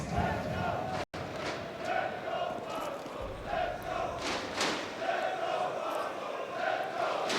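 A large indoor esports arena crowd at IEM Katowice 2024 roars and chants continuously during a Counter-Strike semi-final, a dense wash of many voices rising and falling, with a brief cut near the start.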